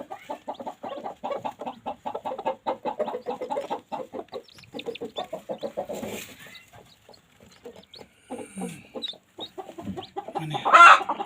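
A broody hen clucks in a steady rapid rhythm, close and fairly loud, with a few softer calls later and a sharper squawk near the end; no speech.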